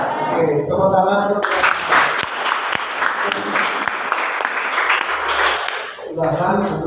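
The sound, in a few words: applause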